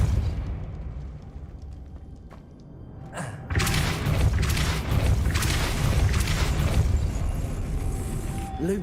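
Casting the Depulso spell in Hogwarts Legacy sets off a sudden loud whooshing blast partway through, followed by a sustained rumbling, crackling wash of force, with a voice speaking.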